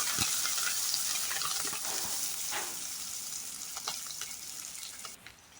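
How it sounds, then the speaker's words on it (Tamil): Ten small shallot-type onions sautéing with curry leaves in a pan for a sardine fish curry, a steady close sizzle with stirring scrapes throughout, fading slightly near the end. "இப்போ 10 சின்ன வெங்காயம் சேர்த்துக்கிறேன். நல்லா வதக்கிக்கலாம்."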